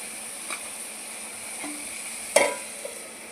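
Onions and tomatoes cooking under a lid in a pan give a steady soft sizzle with a few faint clinks and one sharper knock near the end, no voices.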